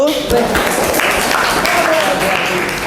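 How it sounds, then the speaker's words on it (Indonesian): Classroom group applauding after a student group's presentation, a dense burst of clapping mixed with voices throughout the short stretch. "Tepuk tangan untuk kelompok 1"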